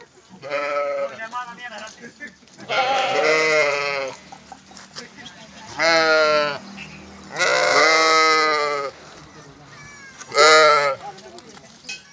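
Several loud, wavering bleats from penned sheep close by, coming in bursts with short pauses between them.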